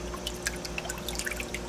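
Jebao WP 40 aquarium wave pump running in wave mode, moving water inside a reef tank with a steady low wash and scattered close drips and trickles, continuous and moderately quiet.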